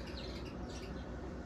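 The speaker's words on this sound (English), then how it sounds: "sorry if you hear all the birds" Birds chirping near a nest, faint and soft tweets over a quiet ambient background, with no talk.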